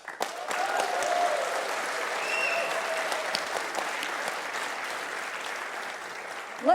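A live comedy talk-show audience in Amsterdam bursts into applause and cheering for a practice round, sustained and loud with whoops throughout.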